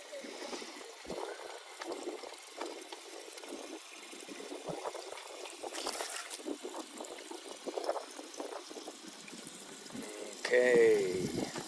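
Water pours and gurgles into plastic jugs at a desert boondocking campsite in Arizona, a soft, continuous splashing and bubbling with irregular surges, faint and close, with a brief louder gush near the end.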